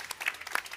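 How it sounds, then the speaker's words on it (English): Applause at an IAA Mobility 2021 startup award ceremony, a short spell of scattered claps, fairly faint and uneven, with a few sharper individual hand strikes standing out. "we support you with a big round of applause"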